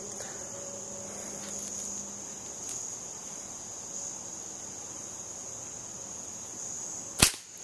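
A single 50 caliber lead slingshot ball smacks a fork target outdoors, one sharp loud crack near the end after a long stretch of steady crickets and insect buzz.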